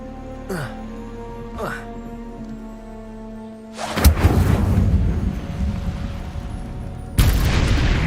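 In Hogwarts Legacy, an Incendio fire spell erupts in a sudden loud burst with a roaring rush that sustains, then flares again with a second sharp blast. Fainter tonal sounds come first.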